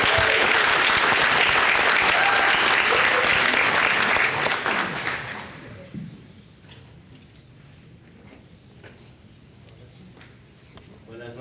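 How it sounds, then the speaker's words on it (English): An audience at a forum for district attorney candidates claps loudly for a speaker from a workers' advocacy group, and the clapping fades out after about five seconds into a quiet room. "Please give a round of applause for Candido from Workers Defense Project"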